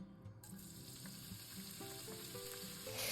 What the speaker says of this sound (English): as soon as the bacon starts to sizzle